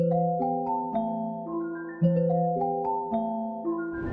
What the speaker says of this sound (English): duplicated it, and I pitched it down one octave, and now it sounds like this.